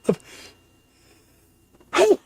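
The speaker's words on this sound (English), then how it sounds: "I thought I was done sneezing." Two sneezes from a person during a tabletop roleplaying podcast recording: a sharp one right at the start, then a louder, longer burst near the end, with near-silence between.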